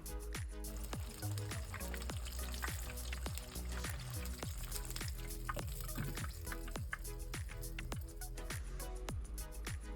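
Jalapeño popper egg rolls deep fry in cottonseed oil with a steady, busy sizzle full of rapid crackles and pops, continuous and close throughout.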